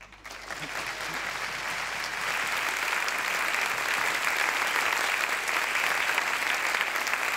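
Sustained applause from an audience welcoming the president of the University of Strasbourg at the Alsace 2018 final of a thesis-in-180-seconds contest, a dense steady roar of many hands that swells slightly and holds throughout.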